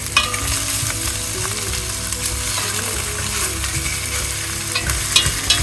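Steady, loud sizzling of meat frying in a hot pan, a continuous crackling hiss with faint stirring scrapes.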